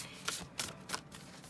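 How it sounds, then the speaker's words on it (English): Tarot cards being shuffled by hand, three short papery riffling bursts in a steady rhythm, close and quiet with no talking. "This card's a little awkward to shuffle, which is why I often don't do them on camera"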